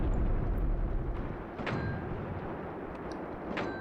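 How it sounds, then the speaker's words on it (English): Mortar fire in the video game Graviteam Tactics: Mius Front: distant, muffled thumps at irregular intervals over a steady low battlefield rumble, with no nearby voices. "But the mortars have got the range."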